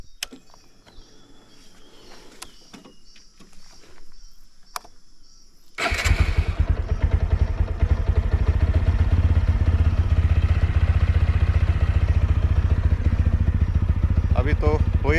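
After some quiet clatter, a motorcycle engine catches and starts, then settles into a loud, steady, rumbling idle that continues close by to the end.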